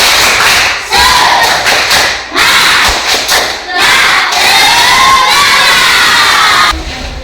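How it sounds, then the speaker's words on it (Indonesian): An Indonesian primary-school class of children shouts a loud, energetic spirit cheer in unison, chanting voices with thumping claps, near and filling the room for about seven seconds. "Ayo, tepuk semangat."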